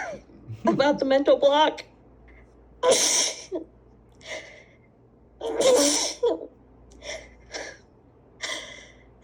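Several sharp, explosive sneezes burst out one after another, each preceded by a quick gasping breath, with talk heard in between.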